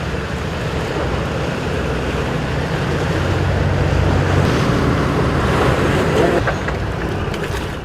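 Strong wind and rough sea waves roar off the coast of Chujado during winter yellowtail fishing, a loud, continuous wash of surf and buffeting wind noise across the whole stretch.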